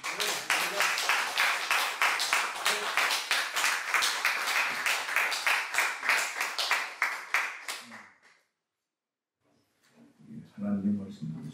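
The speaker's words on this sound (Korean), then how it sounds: "우리 환영의 박수 한번 할까요?" Welcoming applause from a congregation at the opening worship service of a North Korea mission conference, dense and steady for about eight seconds, then fading out before a voice speaks quietly near the end.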